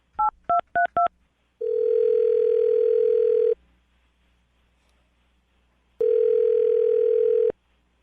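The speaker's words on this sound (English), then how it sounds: "I'm going to dial her phone number right now." Four short two-tone dialing beeps, then a steady ringback tone sounding twice with a silent gap between, clear and close with no talking.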